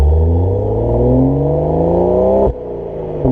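2018 BMW M240i engine and exhaust rising under acceleration then cutting off sharply as the throttle closes on a downshift, close and loud with no talking.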